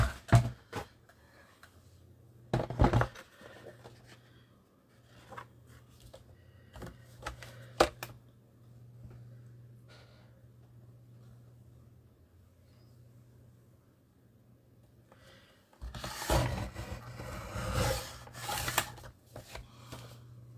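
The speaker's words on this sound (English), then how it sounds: "I'm going to just try and trim that down a bit" Paper being trimmed for a Valentine pop-up mini book, with quiet scraping and cutting strokes between sharper bursts of rustling and handling, close by, over a low steady hum with no talk.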